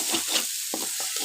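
Aloo dum masala fries in a pan with onion, ginger, garlic, coriander, chilli and turmeric powders, giving a short burst of steady hissing sizzle with a few soft stirring clicks, heard close.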